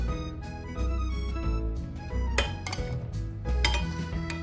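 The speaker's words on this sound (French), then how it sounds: "À l'aide d'une écumoire, je vais me débarrasser du bouquet garni" A metal skimmer clinks and scrapes against a pot of French veal blanquette while lifting out the bouquet garni, onion and shallot, giving irregular close metallic taps and knocks.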